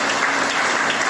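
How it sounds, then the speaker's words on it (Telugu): A church congregation claps loudly during a sermon, a dense, continuous burst of many hands that stays full and close for about a second. "ఒకసారి గట్టిగా చప్పట్లు కూడా దేవుడిని దానిపరచాలి."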